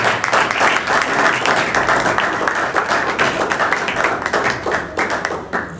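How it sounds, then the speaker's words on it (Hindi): A church congregation at a Lent season service gives a Hindi-speaking pastor a welcoming round of applause, brisk and dense clapping heard up close without a break and with no voices over it. "तो मैं आपकी पुरजोर तालियों में पास्टर हिदायत साहब को दावत देता हूं।"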